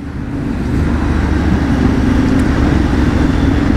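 Yamaha Tenere 700 motorcycle engine under a gentle throttle twist, a steady low rumble mixed with wind and road noise while riding, with no clear rise in revs.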